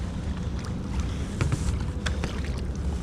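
A kayak paddle dips and pulls through water beside an NRS Heron 11 inflatable fishing paddleboard, giving soft close splashes and swishes over a low rumble of wind.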